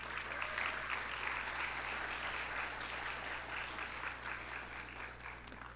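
Applause at a public hearing, steady, even clapping heard faintly at a distance over a constant low electrical hum.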